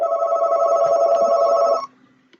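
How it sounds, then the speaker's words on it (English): A telephone rings loudly during a horse-racing talk broadcast, a steady electronic ring with bright tones that holds for nearly two seconds before cutting off, leaving quiet background. "Sorry about the phone"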